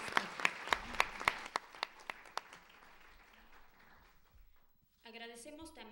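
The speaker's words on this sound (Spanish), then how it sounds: "Un aplauso." A small audience at an international academic colloquium gives sparse, distinct claps, a handful of sharp hand claps that slow and fade within a couple of seconds, before a speaking voice takes over near the end.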